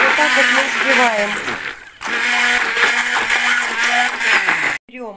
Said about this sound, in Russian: все смешиваем погружным блендером